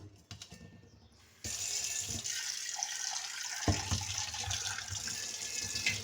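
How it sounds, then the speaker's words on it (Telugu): Barley grains washed in a bowl under running tap water, a steady close rush of water that starts abruptly after a short quiet stretch and carries on with faint clinks, no talking. "ఇలా వాష్ చేసుకోవాలండి ఒకసారి కడిగేసుకొని వంచేసుకుంటే సరిపోతుంది"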